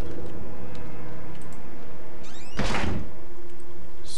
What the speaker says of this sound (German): So, schöne Tür zu knallen.